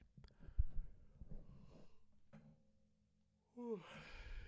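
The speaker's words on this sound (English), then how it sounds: "forgive the yawn" Quiet breathing and faint rustling, then a voiced yawn near the end with a drawn-out falling pitch, close to the microphone.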